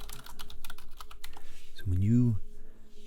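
Rapid keystrokes on a wireless computer keyboard patter close up at a quick, uneven rhythm, with a soft-spoken voice talking over part of it.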